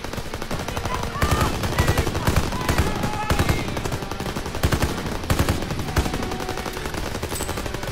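Rapid, loud machine-gun and rifle fire in the World War II shooter Call of Duty WWII, dense bursts rattling continuously with brief gaps.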